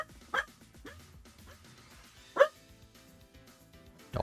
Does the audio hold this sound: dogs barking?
yes